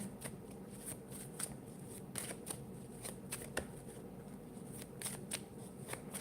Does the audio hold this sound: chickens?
no